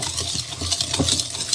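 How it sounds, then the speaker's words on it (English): Milk, skim milk or similar, whisked in a microwave safe bowl for no-bake chocolate peanut butter oatmeal cookies. A steady close patter of whisk strokes runs against the bowl, with light scraping clinks and no talking. "Then I'm just going to give this a whisk to get it incorporated."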